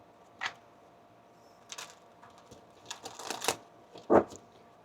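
Tarot cards are shuffled in a few soft, scattered bursts of riffling and flicking, quiet and close with no talking.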